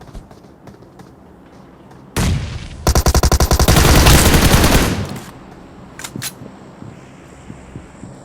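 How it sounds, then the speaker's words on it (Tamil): Gunfire erupts in a shooting video game: one loud burst, then a rapid automatic volley lasting about two seconds before it fades, followed by a few scattered sharp pops. "அழகா ஒரு குண்டு அடி"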